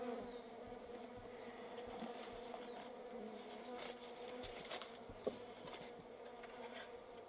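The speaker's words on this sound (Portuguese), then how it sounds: "Tem abelha chegando com pólen aqui, ó." Native bees buzz around a hive as they return carrying pollen, a faint steady drone of many insects with individual buzzes passing close, and one brief tap midway.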